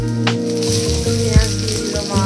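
Cumin, garlic and then onion frying in hot oil at home, a loud steady sizzle with crackling bursts as each ingredient hits the pan, no voices.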